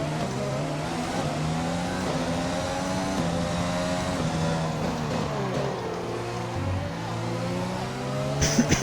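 An F1 2020 video game Formula 1 car's engine screams loudly and steadily on an out lap, its pitch climbing through gear changes and dipping once under braking, with no talking over it.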